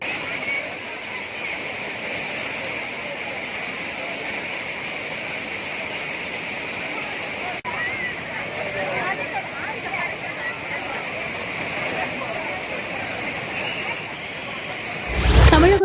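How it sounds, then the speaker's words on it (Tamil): A continuous, heavy roar of the flooded Kothai River churns steadily throughout, loud and broad, with a brief louder burst at the very end. "கோதை ஆற்றில் தண்ணீர் பெருக்கெடுத்து ஓடுகிறது"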